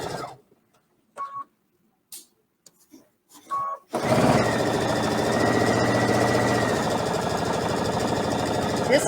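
A sewing machine stitches a rolled burrito-style pillowcase with a steady, loud, rapid mechanical whir. The stitching starts after a few seconds of speech and runs without pause to the end.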